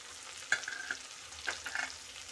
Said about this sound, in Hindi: हरी मिर्च डाल रही हूँ।